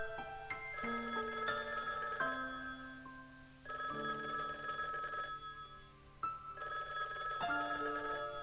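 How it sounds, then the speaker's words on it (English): Electronic telephone ringtone in the visual novel game Higurashi: When They Cry, ringing in repeated bursts of bright stacked tones with short pauses between, fairly close and alone. "The next moment, I hear the phone ringing."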